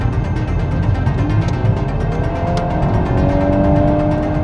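Volkswagen Golf 8 R engine in race mode with the exhaust flap open, a steady loud low rumble with rising revs and a whining tone, close and continuous, without talk.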